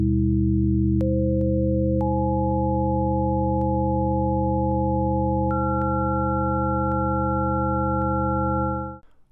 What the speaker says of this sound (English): When we hear 7 phi tones, there is no harmonic distortion between the tones.